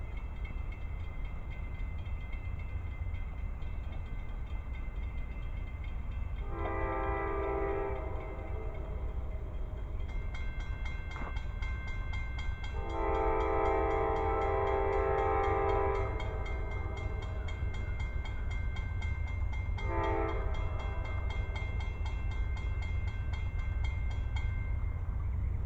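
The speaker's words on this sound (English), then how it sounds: "here comes another train" A freight train rolls by with a continuous low rumble of wheels and cars, while its horn sounds in several separate blasts, one long and two shorter, heard from trackside at moderate distance.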